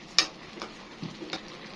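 A spoon scrapes and knocks a few times against a pot of cooking food, with a soft sizzle underneath.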